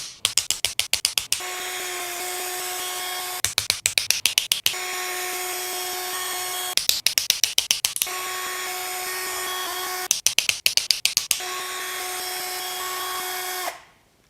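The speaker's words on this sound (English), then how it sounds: "remove those now with a T25 Torx driver" A T25 Torx driver backs carbide inserts out of a Lux Cut helical cutter head for a DeWalt DW735 planer, with clusters of sharp ratcheting clicks between sustained whirring motor runs, close and loud, no speech.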